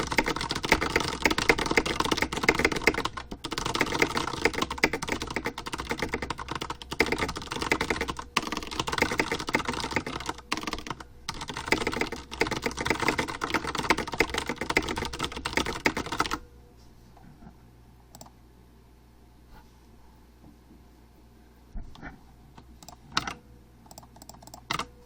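Fast, continuous typing on a computer keyboard during a livestream, with dense clattering keystrokes and brief pauses for about sixteen seconds, then quieter sporadic taps and near-silence.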